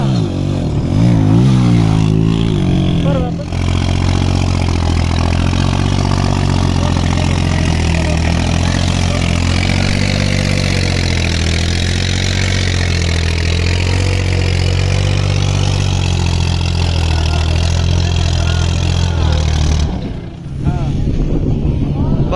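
A motorcycle engine idles steadily and loud throughout, a close, continuous rumble with a brief change near the start and a short dip near the end.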